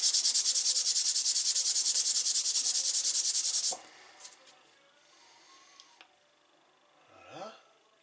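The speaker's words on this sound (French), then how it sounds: "on va prendre le disque pour effacer tous les défauts qu'on a de ce côté-là" A part from a Ducati 1199 Panigale S motorcycle is sanded by hand with a sanding disc. A loud, rhythmic scraping lasts about four seconds, then quiet handling noises follow.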